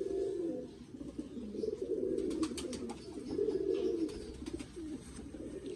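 Pigeons coo in soft, throaty bursts, several rolling calls overlapping close by, with faint clicks and rustling in between.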